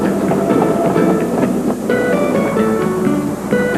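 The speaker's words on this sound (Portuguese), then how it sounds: "O trem atravessa uma ponte chamada Viaduto Maple" A train rolls across the Maple Viaduct, a tall arched railway bridge on the English Riviera, with a loud, steady rumble and rhythmic clickety-clack of wheels, heard up close and continuous.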